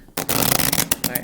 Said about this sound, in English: we're going to shuffle them again